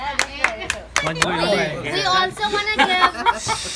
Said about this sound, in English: we'll clap now, we'll clap.